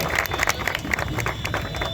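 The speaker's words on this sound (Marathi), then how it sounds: "एकदा जोरदार टाळ्या" A crowd at an outdoor Annabhau Sathe birth anniversary celebration breaks into dense, continuous applause, many hands clapping at once for a couple of seconds.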